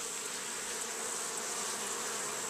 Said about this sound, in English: there's just bees all over the place with these boxes